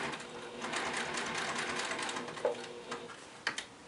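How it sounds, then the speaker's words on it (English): A sewing machine top stitches a curved seam at 1/8 inch seam allowance, running in a steady, fast mechanical whir, close and alone, with a couple of brief clicks near the end. "I'm going to just do 1/8 of an inch seam allowance while I'm doing my top stitching."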